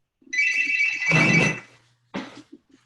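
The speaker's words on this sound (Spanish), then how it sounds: "Teléfono." A telephone rings during an online group-work webinar: a sustained electronic ring lasting just over a second, then a shorter second burst, clear and close with no speech over it.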